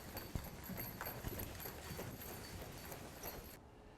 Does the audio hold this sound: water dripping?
no